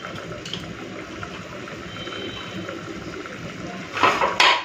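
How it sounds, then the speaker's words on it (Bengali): Hog plum (amra) poured from a vessel into a pot while making chutney in a pressure cooker: a steady low clatter and rustle, then two louder splashing, scraping bursts near the end. "আমড়াটা ঢেলে ফেলি"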